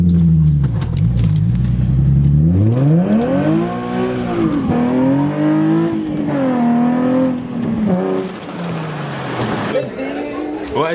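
A Nissan 350Z Nismo fitted with a Tomei exhaust revs loudly and close, its engine note sweeping up and down through several sustained revs, with voices faintly beneath.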